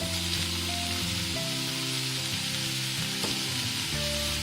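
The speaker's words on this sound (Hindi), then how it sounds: "अब इसमें मैं बॉयल आलू डाल रही हूँ।" Boiled potatoes tumble into onions frying in a pan for onion kachori filling, giving a steady, close sizzle with soft stirring and scraping throughout, no voices.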